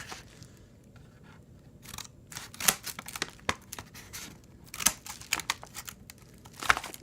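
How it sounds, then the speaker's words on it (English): Scissors snip and tear through packaging in a quick, uneven series of crisp cuts and crinkles, close up with no talking. "we're gonna open it. And here's my handy dandy scissors."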